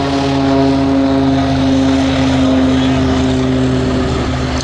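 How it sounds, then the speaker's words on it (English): Pitts aerobatic biplane with a 300 horsepower engine flying an airshow display, its propeller engine droning loudly and steadily throughout with a strong harmonic hum and wind noise, no break in the sound. "Pits can fly just as well upside down as the right way up."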